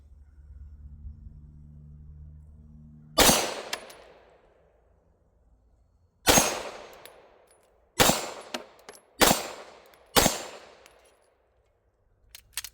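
Five sharp pistol shots from an MPA DS9 LOC MK2, fired as a 5-round group at a range: one isolated report, a pause, then four quick cracks in uneven rhythm, each with a short ringing decay over a low idle rumble.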